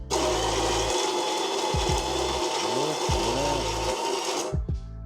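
A freshly refurbished espresso machine's burr grinder with replaced burrs grinds coffee beans in a steady, loud whirring drone with brief pitch dips, then cuts off near the end.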